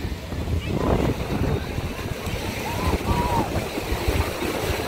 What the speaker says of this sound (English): Family day at the beach, at the beach, at the beach.